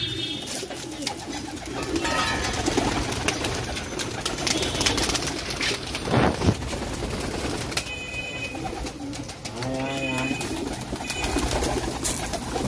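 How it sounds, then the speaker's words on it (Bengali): Many pigeons at a pigeon farm in Nabadwip, India, coo steadily and overlap one another in a busy, continuous chorus, with scattered wing flaps and some louder calls standing out close by. "সব পায়রাগুলো ছেড়ে দেওয়া হয়েছে"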